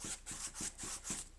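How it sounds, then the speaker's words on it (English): A brush spreads milky varnish over the surface and sides of a stripey painting, making a soft, close, rhythmic swishing as it makes about five even strokes. "I'm just going to go ahead and brush on this varnish"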